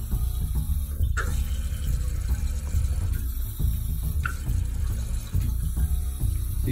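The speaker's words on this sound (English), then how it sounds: "You can still hear it hitting the bottom of the cap, that hiss." Kohler toilet tank refilling with a faulty float, a steady rushing hiss of water running into the tank with faint gurgles and knocks, close and continuous without talk.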